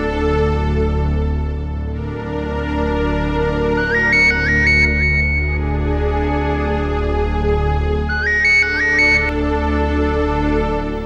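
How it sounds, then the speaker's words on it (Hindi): A phone rings with a short electronic ringtone melody, heard in two separate bursts over steady background music in a Bhojpuri television serial scene. "सुनील को फोन लगाता हूं।"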